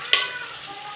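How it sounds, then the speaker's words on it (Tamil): Onions sautéing in a pan for mutton curry, a close steady sizzle with a quick stir scrape at the start. "நல்லா வதங்குது."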